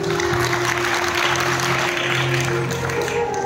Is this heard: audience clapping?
yes